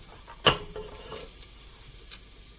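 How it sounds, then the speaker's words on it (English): Celery sautéing in a pot on a stove, a soft steady sizzle with a sharp clink of a utensil and a few light stirring scrapes. "So the celery's going to go in for about, I'd say 5 minutes and saute"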